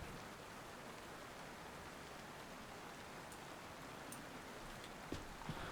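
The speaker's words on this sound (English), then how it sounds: "Is it raining? Yeah, it's raining." Rain falls in a survival shooter video game, a quiet, steady wash of rainfall with a few faint rustles near the end and no speech.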